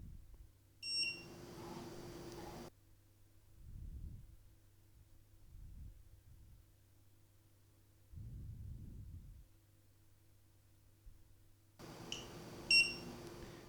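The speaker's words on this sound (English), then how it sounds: "The lights have flashed and the unit has beeped, and now it's set in RAID 10" An Avastor XD5 drive unit gives a short burst of high electronic beeping right after a RAID reset, then sounds again near the end, with low hum and a few soft thumps in between; fairly faint overall, no speech.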